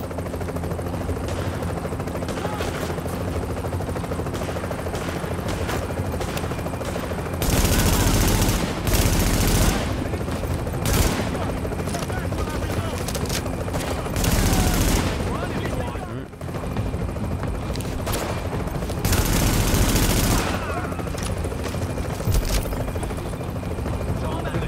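A helicopter in The Division thuds overhead amid rattling gunfire, with several loud bursts and passes swelling and fading over the helicopter's steady drone; people talk at times.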